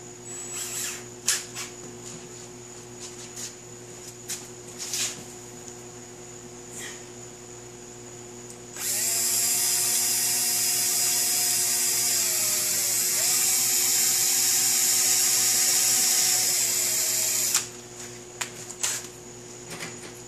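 A power drill boring holes while building a DIY tool stand, one sustained loud whine of about nine seconds between quieter handling noises, with no talking.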